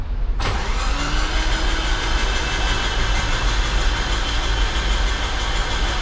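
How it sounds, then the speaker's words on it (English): A Nissan 200SX's SR20DET engine is cranked over by the starter, a loud, steady, continuous whirring churn that runs unbroken from just after the start to the end, close by. "We're just gonna crank it over, build up some oil pressure."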